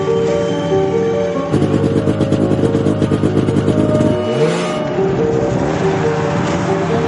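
A motorcycle the rider has never ridden before, at a jump attempt, drones and then revs hard in rapid pulsing bursts before easing back to a steady engine hum.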